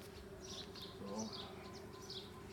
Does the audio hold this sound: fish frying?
no